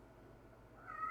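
A pet cat lets out a short, soft meow near the end after a moment of near silence, faint and close with nothing else heard.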